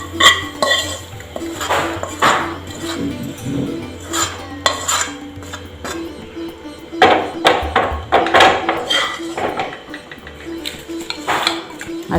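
Raw mango pickle being mixed with chili powder and oil, Kerala style, with a spoon clattering and scraping against a metal vessel in uneven bursts, close and fairly loud, no speech.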